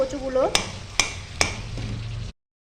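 Mashed taro sizzles in oil in a wok with garlic paste, three sharp spatula knocks against the pan over a soft, steady frying hiss, after a brief bit of speech.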